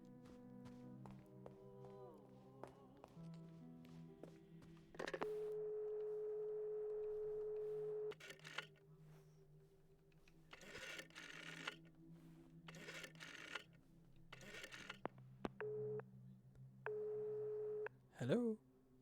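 Telephone dialing tones from the video game Lorelei and the Laser Eyes: a series of steady electronic beeps, some held and some short, separated by brief gaps over a soft background score, with no one talking.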